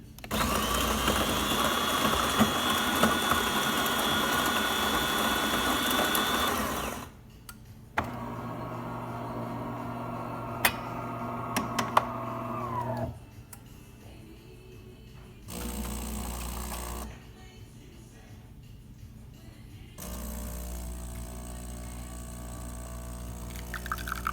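A serviced DeLonghi Magnifica S espresso machine brews a test shot: a loud pump hum for several seconds, then quieter whirring and gurgling stretches broken by pauses and small clicks.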